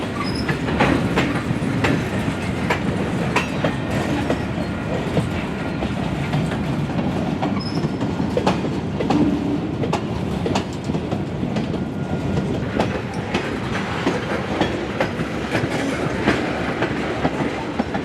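A Canadian Pacific yard train with a caboose rolls past at Kenwood Yard in Albany, New York, giving a steady close rumble with repeated clickety-clack of wheels over rail joints throughout.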